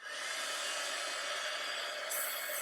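A heat tool melts gold embossing powder during a leaf-dipping craft technique, giving a loud, steady, close-up blowing whoosh that holds unbroken for the whole stretch.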